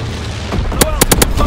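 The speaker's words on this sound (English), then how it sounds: "Low altitude bombing run underway" Incendiary bombs from a low-altitude bombing run burst in a video game, a quick cluster of four or five loud, sharp booms close together over a rumbling backdrop.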